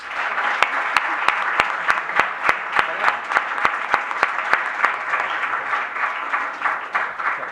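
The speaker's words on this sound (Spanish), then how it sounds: "en la que yo pido un fuerte aplauso" A crowd at a school event breaks into loud, sustained applause, many hands clapping together close and full, with a few sharper individual claps cutting through the steady roar.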